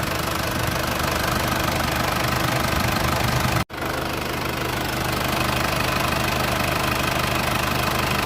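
A direct injection diesel engine runs steadily during fuel purging, with a loud, even knocking idle that cuts out for an instant midway and then resumes at the same level.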